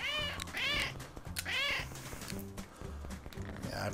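Cats meowing in the cat-corralling game CatNab, several loud, drawn-out meows in a row, close and clear over light background music.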